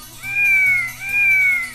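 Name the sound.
cat meowing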